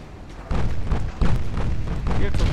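Heavy naval guns firing in the warship game Ultimate Admirals: Dreadnoughts, a few deep booming blasts in quick succession with a voice talking over them.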